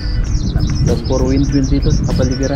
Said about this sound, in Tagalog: Tahimik dito no, puro ibon ang mararinig mo.